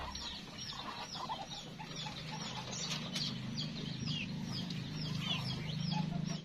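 Chabo Japanese bantam chickens clucking in a flock, many overlapping soft clucks and chirps close by over a constant low farmyard rumble, continuous throughout.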